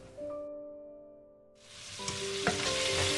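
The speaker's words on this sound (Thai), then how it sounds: "เราผัดประมาณนี้ให้กุ้งพอสุกนะ" Shrimp stir-fried in a hot pan, a faint tone fading before a sudden burst of loud sizzling, with sharp clatters of a utensil stirring and scraping as the frying continues close by.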